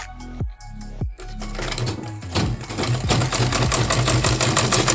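A sewing machine topstitches a sleeve hem, starting with a few short stitch bursts, then running steadily in a fast, even mechanical whir heard up close.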